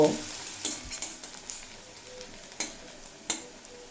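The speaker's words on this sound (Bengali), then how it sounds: "পেঁয়াজ এক মিনিট মতো ভেজে নেব" Chopped onions fry in a pan with a soft steady sizzle, broken by several sharp scrapes and clinks of a utensil stirring them, close and fairly quiet.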